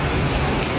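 Rain falling steadily, a dense close hiss of drops on a surface with no voices, brief and constant.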